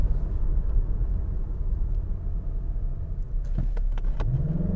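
A 2021 Mazda CX-30 Turbo pulling away from a standstill, its low engine drone steady at first, then a rising tone climbs as it accelerates near the end, with no voices.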